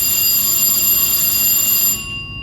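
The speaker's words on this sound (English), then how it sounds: "alarm means it just passed through the security system that we have on the surface" A missile silo's surface security system alarm sounds as the silo closure door rolls open: a steady, loud, high-pitched electronic tone with layered whines that holds for about two seconds, then cuts off and leaves a low hum.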